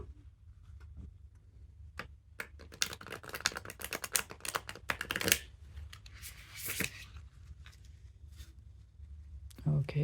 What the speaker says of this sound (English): Just going to shuffle the deck.